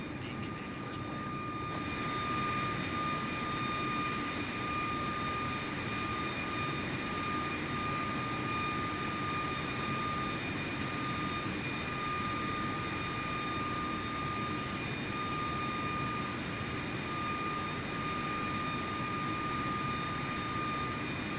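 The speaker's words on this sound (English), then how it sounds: "We're flying an airliner!" Steady, even roar of airliner jet engines cruising in flight in Microsoft Flight Simulator 2024, a continuous broadband drone with faint high whining tones that holds unchanged throughout, with no voices.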